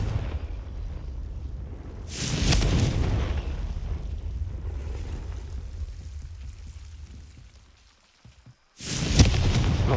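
Confringo spell explosion in the game Hogwarts Legacy: a deep, heavy booming blast with a long rumbling tail, followed by a second loud burst near the end after a brief lull.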